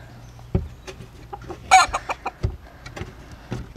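Hens clucking in short, irregular bursts at close range by a new henhouse, with one louder squawk partway through and steady low farmyard noise underneath.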